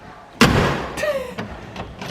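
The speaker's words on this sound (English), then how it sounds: "Look at this door. It's so heavy." The heavy door of a 1968 Ford Mustang swings shut with one loud, close, solid thud, followed by a brief creak and a few lighter knocks as the sound settles.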